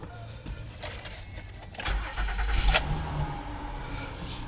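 A 2012 Honda Pilot EX-L engine cranks and catches on a cold morning after sitting, then settles into a steady idle, with some rustling and handling noises before it starts.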